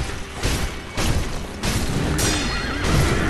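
A horse in the Sekiro video game neighs loudly in a couple of drawn-out whinnies, with some clattering and booming game effects around it and no talk.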